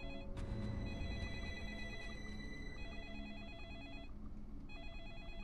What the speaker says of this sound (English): Oh good, there's a phone.